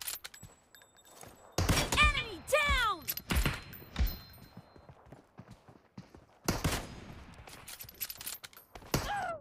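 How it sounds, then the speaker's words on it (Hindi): Gunfire in the mobile battle royale game PUBG Mobile during a team deathmatch, with scattered sharp shots and short bursts spread across the stretch, loud and close, mixed with other game effects. "दो शॉट मारो इसको।"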